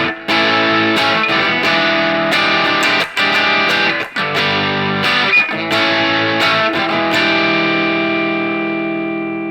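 A distorted electric guitar strums chords in a loud, driving rhythm, with short choked gaps between some strums and a sustained ring-out at the end.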